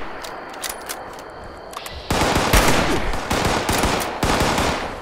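Quiet ambience in Fallout 76 gives way to sudden heavy automatic gunfire striking the player, loud close bursts repeating over the final three seconds.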